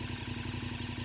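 KTM 1290 Super Adventure S motorcycle with an aftermarket exhaust and Rottweiler intake kit thrums close by in a steady, rapid pulsing beat, heard alone.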